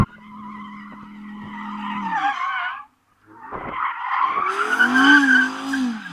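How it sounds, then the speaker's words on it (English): An Audi R8 GT does wheelspin to warm its tyres, with loud tyre squeal and a revving engine. There is a brief pause, then a second burst of screeching that is louder and harsher. "We've got to warm up our tyres."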